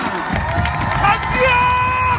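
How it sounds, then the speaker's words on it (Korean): Crowd at Jamsil baseball stadium cheers and claps during a home game against SK, a mix of shouts, applause and voices under amplified tones, loud and continuous. "힘찬 박수 부탁드리겠습니다"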